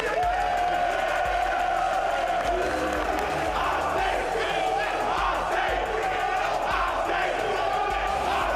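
A sports team hollering and cheering in a loud, continuous burst of crowd noise that holds steady from start to finish, with shouting voices mixed in.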